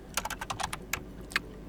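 A command is typed on a computer keyboard, a quick uneven burst of about a dozen crisp key clicks close to the microphone against a quiet room.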